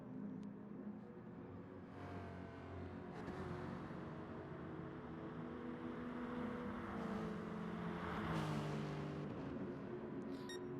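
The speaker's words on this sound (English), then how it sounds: "The Lexus doesn't sound like a Japanese car." Lexus race car engine in a racing video game, a sustained, fairly faint droning whine rising and falling with revs and gear changes, alone without talk.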